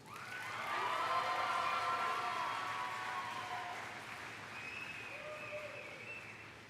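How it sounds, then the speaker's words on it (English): A graduation ceremony crowd applauds with sustained clapping and cheering that swells, then slowly tapers, with a few shouts and whoops rising above it. "Would you give a big round of applause to our second salutatorian, Elena Kaufman."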